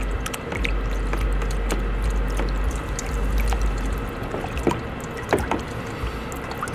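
Gold pay dirt from a GOLDROP four-bucket setup washed with water in a gold pan, a steady wet swishing and sloshing with scattered small gritty clicks of gravel, close and continuous.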